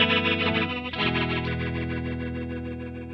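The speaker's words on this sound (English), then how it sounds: "This is like a Hammond simulator, and this is better in stereo, but I'll give you the mono version." A Line 6 POD modelling a rotary Hammond organ through a Leslie speaker, heard in mono: a sustained, swirling organ-like tone with a noticeable shift in its warble about a second in, then a steady rotating shimmer.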